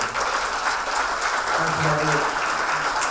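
Audience applause at the BIGSOUND 2014 music industry panel, a steady wash of many hands clapping through the whole stretch with a voice faintly underneath.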